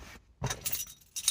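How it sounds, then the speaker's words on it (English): Car keys jangle and clink close by in short metallic bursts, with a rattle at the start and louder shakes after a brief pause, used while opening a box. "Use my car keys."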